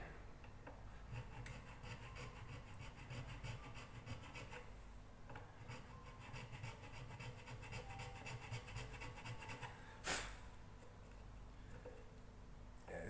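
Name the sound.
filing down a soft ukulele nut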